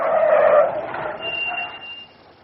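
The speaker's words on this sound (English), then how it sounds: "Almost immediately, a car came to a halt." A car skids to a halt on an open road, a loud tire squeal that fades over a couple of seconds into a thin high whine as the vehicle stops nearby.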